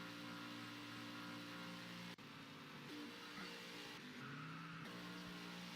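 Race car engines drone continuously in a racing video game at Circuit of the Americas, with a sharp click and a brief tire squeal as a car spins out, no speech.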